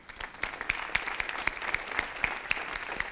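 Conference audience applauding a panel moderator, a crowd of clapping with a few distinct rhythmic claps standing out near the front, building briefly and holding steady.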